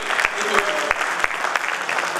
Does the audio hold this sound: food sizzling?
no